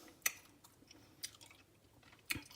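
Close, quiet chewing of a keto stuffed serrano pepper filled with cheese and seasoning, three crisp bites spaced about a second apart with soft mastication between them.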